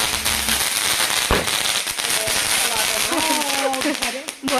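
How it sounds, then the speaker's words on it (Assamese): Diwali firecrackers pop and crackle in rapid scattered bursts with one sharp loud bang, some whistling streaks rising through the din, while people talk nearby. "ফটকা তেনেকৈ ফুটোৱা হ'ল"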